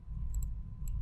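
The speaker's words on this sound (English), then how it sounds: "So we'll go ahead and hit 3 on the keyboard" A few sharp, light clicks from a computer keyboard key press, two quick taps close together and another shortly after, small and close over a steady low room hum.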